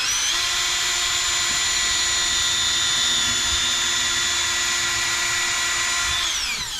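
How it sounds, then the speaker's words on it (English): A power drill with a 4mm bit drills steadily during a chainsaw fuel-line repair, giving a loud, continuous high whine at constant speed that winds down at the very end. "So I got a 4mm drill bit on this"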